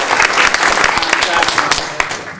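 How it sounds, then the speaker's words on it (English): Applause from an improv festival audience, a dense steady clatter of many hands clapping with a few sharper claps standing out, fading slightly at the end. "So give yourselves a round of applause for that."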